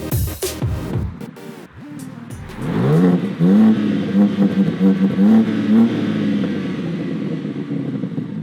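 A 2021 BMW M3 Competition, sixth generation, accelerating hard, its engine rising in a loud close roar through climbing revs with a gear change, after brief mechanical noises at the start.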